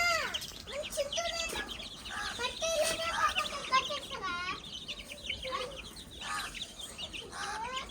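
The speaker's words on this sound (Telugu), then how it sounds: "కోళ్ళు చూసారా ఇట్లా చేసేస్తాయి కోళ్ళన్నీ" A flock of village chickens cluck and squawk close by, overlapping bursts of calls rising and falling continuously over a low outdoor background.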